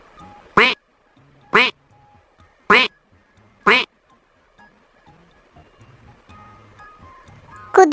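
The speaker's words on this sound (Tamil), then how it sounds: "வாத்து." A duck quacks four times in a Tamil children's animal sounds sequence, loud evenly spaced calls about a second apart, followed by a quieter stretch with low background noise.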